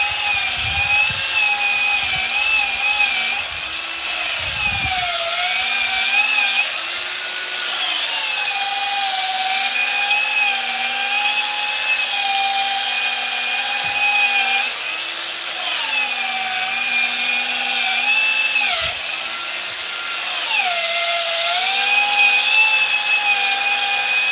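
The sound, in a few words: power polisher polishing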